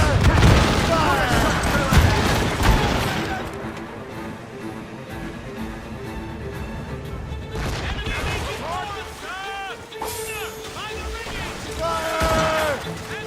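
Cannon volley from sailing warships in Assassin's Creed Rogue, heavy booms and crashes rolling through the first few seconds over churning water, with shouted crew voices and orders carrying on throughout.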